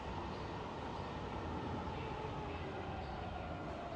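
A Bridgeport milling machine's spindle runs at speed, giving a steady, dense mechanical whir and rumble that holds constant throughout with no talk.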